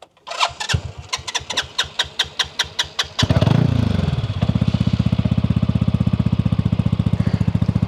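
A boat engine on a Bali 4.8 catamaran cranks in a rapid rhythmic chug for about three seconds, then catches and runs with a steady, loud idle close by.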